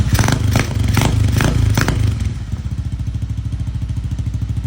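A classic bobber motorcycle's engine catches after a kick start, firing a few loud uneven bursts and then settling into a fast, steady, close idle chug.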